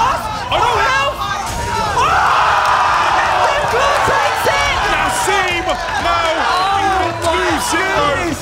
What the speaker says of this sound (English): the crowd are going mental